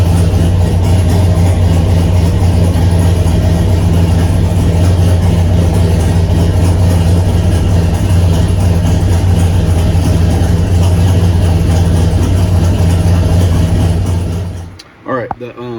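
A tuned car engine runs at a loud, close, steady idle with a deep droning hum that holds for about fourteen seconds, then cuts off abruptly, leaving a few faint shuffling sounds.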